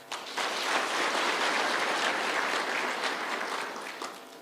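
A crowd at a National Police Service gathering applauds His Excellency with sustained, dense clapping that swells quickly, holds steady for several seconds, then begins to taper off.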